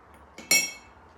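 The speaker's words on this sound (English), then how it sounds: "So I'm going to put a couple of ice cubes in there." A couple of short, bright clinks of ice cubes dropping into a glass for a coconut drink, close and brief in an otherwise quiet room.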